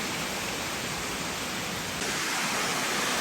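A waterfall flowing down from a gorge in northern Italy makes a dense, constant hiss of falling water, steady and fairly close with no voices.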